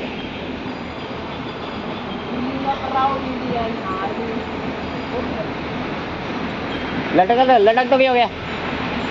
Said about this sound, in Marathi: बघू शकतो काय ट्रेन, टॉय ट्रेन आली आहे माथेरानची.